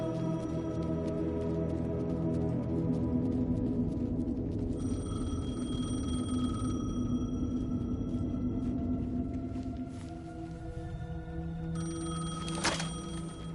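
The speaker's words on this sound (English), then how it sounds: "The payphone was ringing." A payphone rings in the Alan Wake video game, a steady electronic tone sustained across the scene over a low ambient music bed, with a bright burst near the end.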